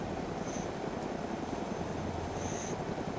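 A helicopter flying in the survival game DayZ Epoch on the Taviana map, a steady, muffled rotor and engine drone that holds at an even, moderate level throughout with no talk over it.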